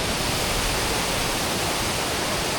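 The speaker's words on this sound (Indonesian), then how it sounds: "Nah, kita sudah di tengah-tengah air terjun WK Curah" Waterfall at Weekacura (WK Curah) in West Sumba with a strong current, a dense, steady roar of rushing water filling the whole clip loudly and closely, with no break.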